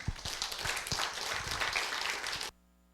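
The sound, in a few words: audience applause welcoming a lecturer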